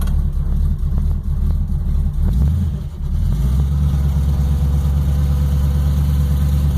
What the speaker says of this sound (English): when I put it in neutral, you'll hear the pump whining